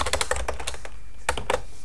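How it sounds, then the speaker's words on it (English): Keys clatter on a computer keyboard as text is typed into a Microsoft Word document, a quick burst of close clicks, a pause, then a few more taps, with no voices. "Now from here we can type in Eastgate Elementary School"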